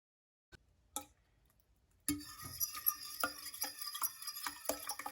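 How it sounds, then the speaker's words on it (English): A utensil stirs flour into beef broth for gravy. After a few isolated ticks, a steady run of clinking scrapes against the pot begins and continues close and fairly loud to the end. "I'm just gonna mix my flour with a little bit more beef broth and see if we can't make some yummy gravy"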